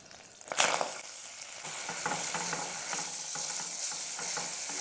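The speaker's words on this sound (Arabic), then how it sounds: "هلا بدي اضيف قطعة زبدة، وبدي اضيف بصل مقطعة وفصين توم" Chopped onion and two garlic cloves drop into melted butter in a pot where chicken was just browned, bursting into a loud sizzle that settles into a steady, close frying crackle with faint stirring.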